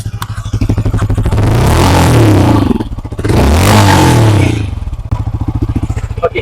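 A Yamaha R15M motorcycle engine starts and revs hard twice, each loud rising roar settling back to a steady thumping idle, close up with a voice briefly heard.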